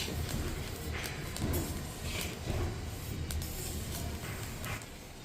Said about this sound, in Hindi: जब ये तिल हल्के हल्के सिकने लग जाते हैं तो इनमें हल्की आवाज़ आने लग जाती है चटपट सी